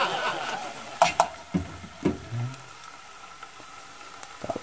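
Tabongaw frying in a pan as it is shaken and stirred, giving faint sizzling with a few distinct clattering knocks and scrapes of the pan, no talking.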